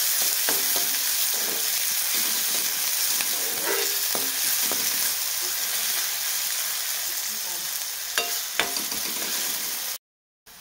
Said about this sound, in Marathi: आपला कांदा छान असा परतला आहे, मस्त ब्राऊन कलर झालाय.